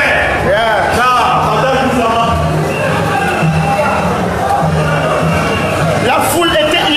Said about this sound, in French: la foule était immense, juste pour le passage du président Kamto